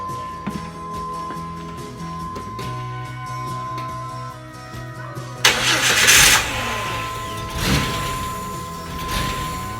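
Jeep WJ engine starting after a fuel filter repair: a cranking starter, then the engine catches with a loud burst and settles into a steady idle, close by.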